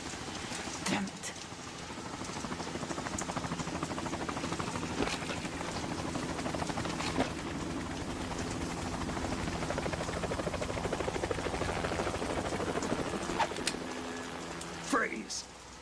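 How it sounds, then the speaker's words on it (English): A video-game helicopter thrums with a steady rotor drone, sitting among rain-like hiss and patter, loud and continuous, with a few sharp clicks and a short swooping tone near the end. "You will be on the helicopter out of here now."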